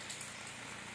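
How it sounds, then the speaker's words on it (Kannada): Steady rain pours down on a village evening during a Ganesh immersion day, a dense, even hiss of drops on surfaces filling the whole second with no voices. "ಮಳೆ ಅಂದರೆ ಮಳೆ ಬರ್ತಾ ಇದೆ."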